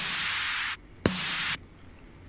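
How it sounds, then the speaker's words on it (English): A big room house snare sample layered with white noise: two long, bright noise bursts, each cut off abruptly, with a sharp snappy hit between them and a faint tick at the end. "some more stereotypical like house kind of snare"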